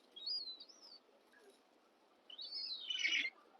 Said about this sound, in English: We're just having a fight here between the seagulls.